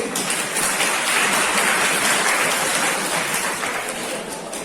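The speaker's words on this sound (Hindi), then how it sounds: "एक बार जोरदार तालियां बजा दीजिए अपने सपनों के लिए।" A seminar audience at a college applauding loudly, a dense, sustained wash of many hands clapping together that holds steady and tapers slightly at the end.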